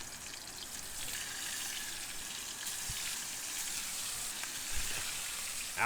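Coconut shrimp fry in smoking hot oil in a pan at a camp beside a Land Cruiser, giving a continuous bright crackling sizzle with a few small pops and clinks, close and steady without talking.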